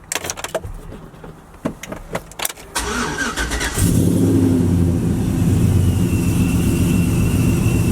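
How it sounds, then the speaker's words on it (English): A supercharged Chevrolet Silverado engine cold-starts: a few seconds of clicks and cranking, then it catches and settles into a loud, steady, close idle that continues to the end. "Cold start."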